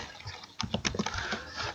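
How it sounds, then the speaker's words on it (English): Computer keyboard keys tapped in a short burst of quick, light clicks, close and fairly quiet, after a brief pause. "I want to type Kenya, like this."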